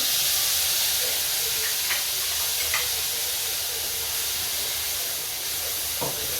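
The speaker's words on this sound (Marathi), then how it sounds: "बघा हे मिक्सरमधलं वाटर त्याच्यात टाकते" Ground masala paste from a mixer is tipped into a hot pan for a paneer curry, giving a loud, steady hissing sizzle throughout with a few faint clinks.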